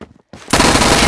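A MAC-10 in the Roblox game Phantom Forces opens up in a loud, continuous automatic burst after a brief quiet moment, the rapid shots blurring into a dense roar.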